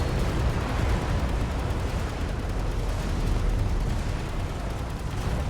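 Archer missile pods firing in Space Engineers, a dense continuous roaring rumble of launches and blasts that holds loud and steady throughout.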